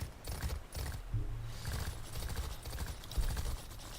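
Galloping hooves of a robotic horse in a video game, a steady clip-clop rhythm of repeated thuds running throughout, fairly close and moderately loud, with a brief neigh-like tone partway through.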